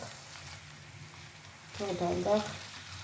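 Beans added to fried onions sizzle slowly in a pan, a soft steady frying hiss that swells briefly as they go in, fairly quiet and close.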